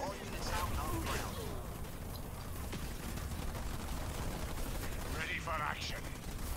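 Ground troops trade gunfire in the real-time strategy game Halo Wars 2, with faint, continuous rattling shots and metallic clatter over a rumbling battle bed, and brief voice bursts break through.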